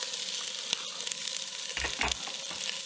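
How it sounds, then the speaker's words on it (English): Onion, celery and roasted red peppers sautéing in a pan for a shrimp and corn bisque, a steady close sizzle and crackle with a few soft stirring knocks, no voices. "And we're just going to saute this together."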